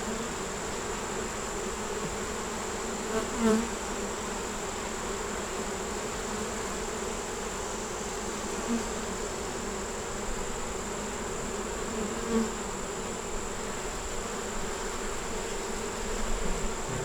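Honeybees swarm around an open hive being inspected for growth, giving a steady, dense buzzing drone that holds evenly throughout, close and moderately loud, with no talking.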